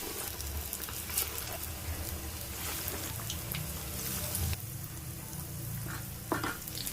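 Capsicum bajji fritters frying in hot oil in a small pan, with a steady, close, bubbling sizzle that stays loud throughout and no talking.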